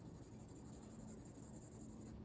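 Pencil shading on paper for a Rembrandt study in halftones, a soft, steady scratchy rasp of graphite strokes in gradual repeated passes, close and quiet with no voices.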